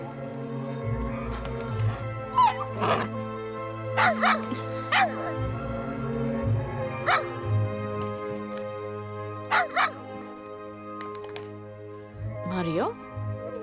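Close dog giving a scattered run of short barks and yips mixed with whimpers over a steady low hum, with irregular gaps and a brief whine near the end.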